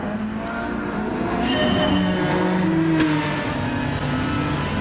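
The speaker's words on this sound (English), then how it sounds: "one of my favourite cars, the Aston Martin DB9, definitely one of the best sounding cars in the game" Aston Martin DB9 racing in a video game at Interlagos, engine revving up and holding a strong rising note with a brief tire squeal, loud and near, no voices.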